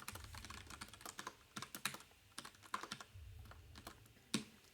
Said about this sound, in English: going to have to get better at typing soliloquy